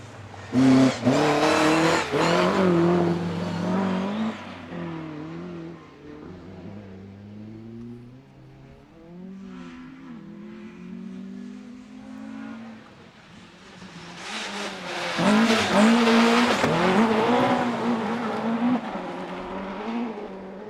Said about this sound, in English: Car 31 again was that little Citroen AX of Ben Wilson.